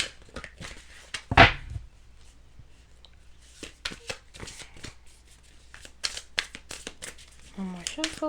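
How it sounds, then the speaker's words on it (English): Tarot cards being shuffled by hand, a sharp riffling burst followed by scattered soft taps and slides of cards, close and fairly quiet, with a voice speaking intermittently between the card sounds. "One more shuffle."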